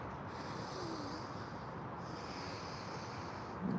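Slow, easy exhale through the nose during a morning qigong breathing practice, a soft steady airy rush lasting a few seconds, close and quiet with no talking.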